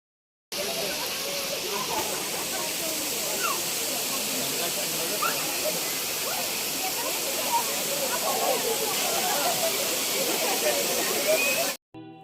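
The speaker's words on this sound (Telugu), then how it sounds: "ఇక్కడ ఈ రాళ్ల పైనుంచి పారే నీటి గలగలలు వింటే మనం ప్రపంచాన్ని మర్చిపోతాం." Water at Thirathghar waterfall pours over rocks in a steady, dense rushing roar that fills the whole stretch without a break.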